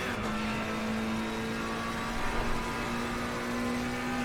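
A McLaren race car engine in the ACC (Assetto Corsa Competizione) racing game at Imola drones steadily at high revs, a continuous tonal whine with slight pitch shifts and no talk.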